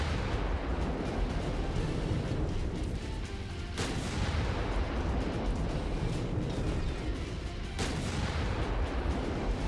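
Mech weapon fire in the video game Merctech: a dense, continuous roar of heavy booming shots and explosions, with two sharp louder blasts standing out, loud and unbroken throughout.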